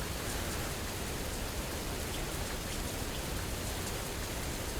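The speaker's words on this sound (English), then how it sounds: "No longer shouting over the rain." Steady heavy rain pours onto a road and a parked truck trailer, a dense continuous hiss filling the whole stretch at even loudness with no voices.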